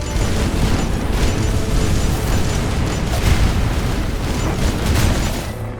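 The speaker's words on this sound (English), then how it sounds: "I'm gonna have to test this explosion now on the skeleton." Explosions in the video game Skul: the Hero Slayer roar continuously, a dense loud rumbling blast texture that stays steady for several seconds before easing off at the end.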